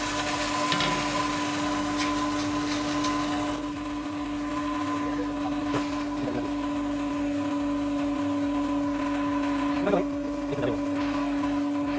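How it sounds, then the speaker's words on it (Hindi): A domestic atta chakki flour mill grinds wheat with a steady motor whine and hum, joined by irregular knocks and rattles from the grain, while someone talks over it. "जैसे ही गई गेहूँ हमने इसमें डाला ये पीसना शुरू हो गया।"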